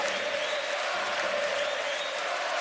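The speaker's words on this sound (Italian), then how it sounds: "con anche Armani in piedi ad applaudire" A basketball crowd at an EA7 Emporio Armani Milano versus Germani Brescia playoff game applauds at the final buzzer, a dense, sustained wash of clapping and cheering that holds steady without a break.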